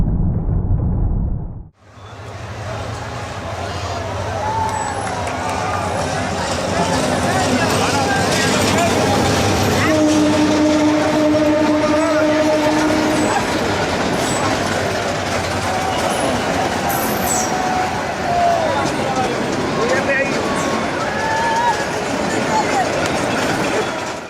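An overcrowded moving train carrying people on its roof and front rumbles loudly and continuously with rattling carriages, a passing tonal hum midway, and crowd voices mixed in throughout.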